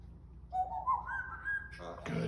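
A trained pet bird whistles a short rising tune, a clear piping note sliding upward over about a second. A few scuffling sounds follow at the end, and the whistle is close and fairly loud.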